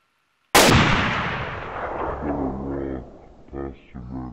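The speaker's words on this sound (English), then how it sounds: "He shot me in the fucking head!" A single loud, close gunshot in a first-person shooter video game cracks sharply and rings out with a long echoing tail, followed by faint in-game sounds and brief voices.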